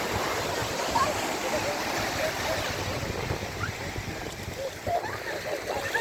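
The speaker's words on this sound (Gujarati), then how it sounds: "જો આ સોમનાથનો દરિયો છે, જો તમે જોઈ શકો છો" Sea waves at Somnath beach wash in as a continuous broadband rush of surf, steady and fairly close, with a voice talking over it.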